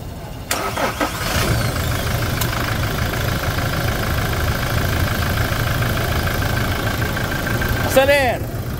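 A Toyota Hilux 2.8 diesel from 2021 starts and settles into a steady, close idle with a low rumble, while people talk nearby and a brief chirping sound near the end.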